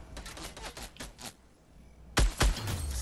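Gunfire in Fortnite, a quick run of rapid cracking shots, a pause, then two heavy close blasts followed by lingering noise.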